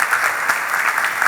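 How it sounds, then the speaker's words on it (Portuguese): Congregation applause during a church service, a brief, loud, dense wash of many hands clapping together without pause. "que merecem uma salva de palmas, porque é uma equipe."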